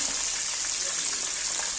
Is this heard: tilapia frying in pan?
yes